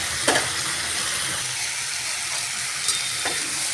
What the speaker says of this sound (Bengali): আমি এটা ভালো করে মশলাটা দিয়ে কষিয়ে নেব